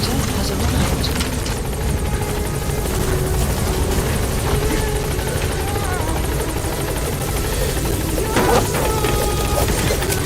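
A support helicopter arrives in Metal Gear Solid V, its rotor thudding loud and close throughout with a steady engine drone, while a voice speaks over it.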